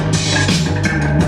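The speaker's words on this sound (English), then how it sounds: "for that I chose like a gyro kind of sound" A whirring, gyro-like synth tone sustains over a low steady bass, with bright noisy swells pulsing roughly every half second in a jazzy boom-bap beat.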